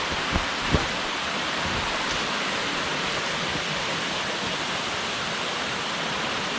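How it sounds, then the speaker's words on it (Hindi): Steady, even rush of water flowing down from above in a Himalayan forest, like a stream or small cascade, continuous throughout with a couple of faint knocks near the start. "वो ऊपर से पानी बह के आ रहा है।"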